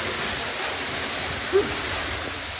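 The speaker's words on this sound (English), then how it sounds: "let's come through another waterfall" Waterfall inside an abandoned UK mine: a steady, loud rushing roar of falling water fills the whole stretch, close by, with a brief faint voice under it.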